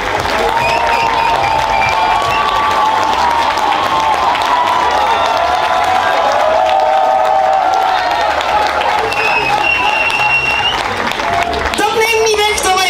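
A large crowd applauds loudly and continuously at a Dutch carnival prince's ceremony, dense clapping with cheers and whistles mixed in, and a voice speaking briefly over it near the end.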